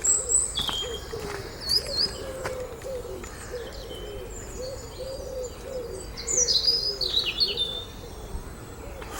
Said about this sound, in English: Bird sound, I should say bird song.